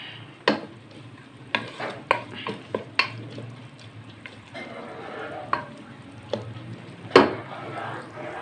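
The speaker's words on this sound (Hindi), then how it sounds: "तो अब ये प्याज इसमें हम थोड़ा सा ब्राउन करेंगे" Onions browning in a pan with potatoes for a spiced potato and egg dish, a soft steady sizzle broken by several sharp spatula scrapes and clinks against the pan.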